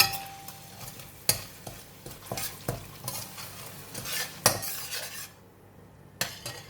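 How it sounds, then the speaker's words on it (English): A utensil stirs sugar, light soy sauce and pepper together, clinking against a bowl or pan, with irregular scraping and a few sharper knocks, close by and moderately loud, no voices. "Just mix them together."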